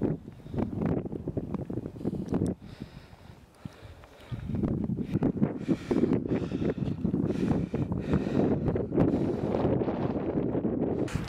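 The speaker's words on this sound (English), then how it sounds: "It's really windy up here" Strong mountain wind at Lake Louise buffets the microphone in loud, rumbling gusts, easing briefly before surging again and roaring on steadily.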